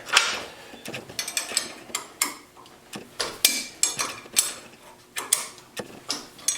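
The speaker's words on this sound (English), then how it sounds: "Maybe now I can do it with the spanner." A spanner works a part on the tilt cylinder of a Bobcat skid steer during a rebuild, giving a series of metallic clicks, ratcheting creaks and scrapes in uneven bursts, close and fairly quiet, with no talking.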